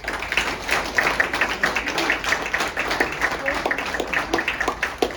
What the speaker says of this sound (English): I think they deserve a round of applause if you would